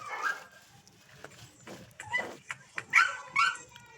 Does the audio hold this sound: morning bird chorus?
no